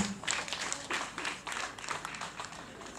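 A crowd claps in a burst of applause at a wedding, steady and fairly close, with some voices mixed in.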